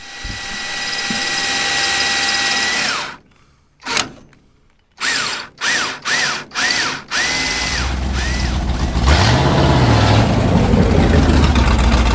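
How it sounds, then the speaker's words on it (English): High whining power drill running steadily, then several short bursts of drilling separated by brief pauses, before a continuous whir resumes. "Plenty of easy access now for drilling holes."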